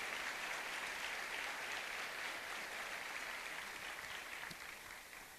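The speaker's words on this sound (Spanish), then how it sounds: "¿Cuánto le da una ofrenda de palmas al Señor que está presente en este lugar, hermano?" A church congregation claps in sustained, dense applause as an offering to the Lord, steady and loud throughout before easing slightly at the end.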